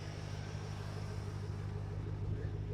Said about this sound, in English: I'm going to hop back in now and give Bryony a few revs to record